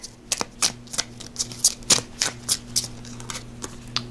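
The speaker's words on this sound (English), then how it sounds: "I swear I'm shuffling these." Tarot cards shuffled by hand in a steady run of about a dozen crisp, close riffling snaps, evenly spaced, with no talking.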